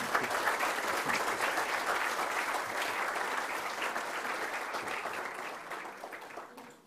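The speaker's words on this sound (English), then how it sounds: "please join me in giving a big round of applause" An audience at an Indian economics lecture gives a steady round of applause, dense and sustained at first and then slowly thinning and fading toward the end.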